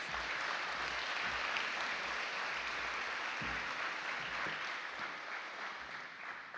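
Steady applause from an audience at a high school honor society induction and hooding ceremony, a continuous even patter of many hands, faint and distant, tapering slightly at the end.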